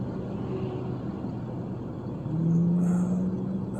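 A highway crash truck driving, its engine giving a low steady rumble from inside the cab that swells louder about midway, with a faint high whine on top.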